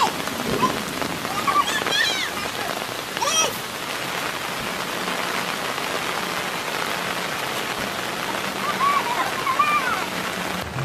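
Steady rain pours down on a surface outdoors, an even hiss that fills the whole stretch, with a few faint voices and brief chirpy sounds rising now and then above the downpour.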